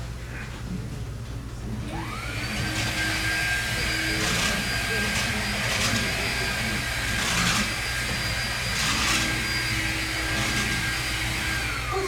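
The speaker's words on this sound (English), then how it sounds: "What are you doing at the Hoover again?" A Hoover vacuum cleaner switches on and runs steadily on a theatre stage, a close whining drone that keeps going, with voices briefly speaking over it.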